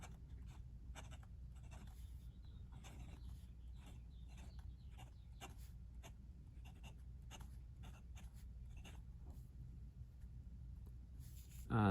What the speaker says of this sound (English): for now I'm just gonna write normally